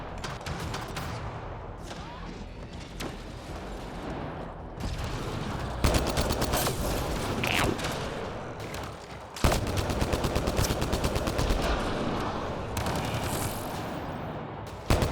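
Automatic turret fire during a third-person shooter firefight in Mass Effect: Andromeda, a steady stream of rapid gunshots with dense battle noise and sharper bursts cutting through the mix.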